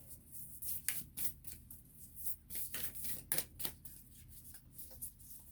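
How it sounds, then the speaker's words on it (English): Rapid papery riffling bursts of oracle cards being shuffled, repeated in quick irregular runs, close and fairly quiet with no talking. "we're going to shuffle the Heart and Soul cards"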